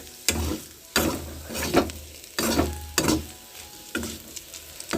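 Chopped vegetable pieces fry in a pan under a steady sizzle, with a spoon scraping and stirring in regular loud strokes about once a second, close up and without talking.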